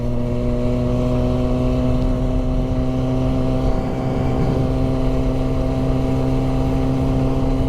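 Motorcycle engine while riding along, a loud, steady droning hum held at constant revs throughout, close and continuous with no talk.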